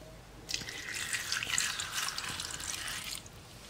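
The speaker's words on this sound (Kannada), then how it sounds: "ಇವಾಗ ಇದರಲ್ಲಿರುವ ನೀರನ್ನೆಲ್ಲ ಚೆಲ್ಲಿಬಿಟ್ಟು ಬೇರೆ ನೀರನ್ನು ಸೇರಿಸ್ಕೊಳ್ಳೋಣ." Running water pours steadily from a tap for about three seconds as chopped banana flower is drained and topped with fresh water in a kitchen, a clear splashing gush that starts and stops abruptly.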